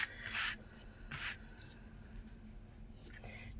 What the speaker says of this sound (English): I'm just going to use my bone folder to give it a bit of a crease.